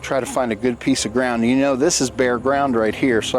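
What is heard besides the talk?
No everyday noise stands out behind the speech.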